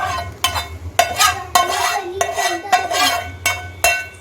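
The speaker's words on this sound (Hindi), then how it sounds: "अब मैं इस कढ़ाई को इधर शिफ्ट करूंगी और इसमें पूरा मिक्सचर डाल दूंगी" A spoon scrapes and knocks repeatedly against a kadai while a mixture is poured in and stirred, giving a series of rhythmic metallic clanks over a low background hum.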